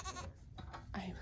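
A farm goat gives one short, close bleat that fills the brief moment, with no voices.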